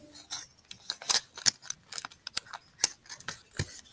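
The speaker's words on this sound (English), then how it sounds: "I'm going to take my tape and I'm going to tape them together" Adhesive tape pulled and pressed around overlapping paper discs, giving a series of quick crackling rips and taps in irregular bursts, close and fairly quiet with no voices.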